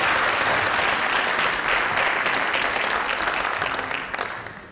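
Audience applause at an Estonian youth entrepreneurship contest final, loud and steady clapping from a crowd that holds for several seconds and only begins to thin near the end.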